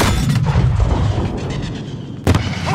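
A grenade goes off in the Call of Duty: Modern Warfare video game as a heavy rumbling boom that decays over a couple of seconds, followed by a second sharp blast near the end.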